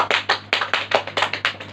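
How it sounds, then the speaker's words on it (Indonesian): Short burst of classroom applause for a student during a maths teaching practice lesson, a few hands clapping in a quick, slightly uneven rhythm, close and fairly loud. "Beri tepuk tangan untuk Suci"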